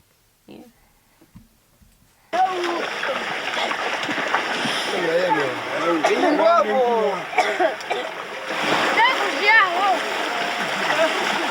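Water splashing during a ritual first bath at a Zambian initiation ceremony, steady and close, with overlapping voices talking and calling over it throughout after a quiet start.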